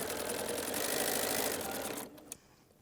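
A sewing machine stitches a quilt block, a close, loud, rapid whirring run of stitches for about two seconds that stops abruptly, followed by a brief click.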